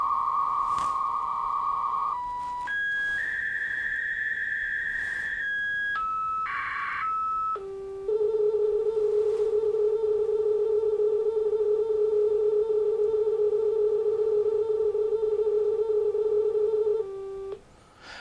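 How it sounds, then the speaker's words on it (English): A modem built into an Acorn BBC Micro runs its self-test, steady electronic dial tones stepping through different pitches, short beeps and a warbling burst, then one long sustained tone that stops abruptly near the end. "you can hear all those classic old dial tones of past on this modem"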